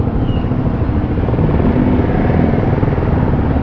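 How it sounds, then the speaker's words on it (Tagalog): A 2024 RUSI Flash 150X motorcycle engine drones steadily and loud from close range, a continuous low rumbling hum with no pauses or voices. "Lakas ng motorcycle na to."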